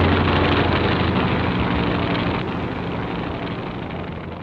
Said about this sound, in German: Plötzlich ist der Helikopter aus einer Wolke rausgeschossen.